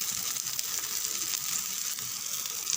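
Oil sizzles steadily on a bottle gourd adai frying on a hot griddle, a close, continuous hiss with no talking.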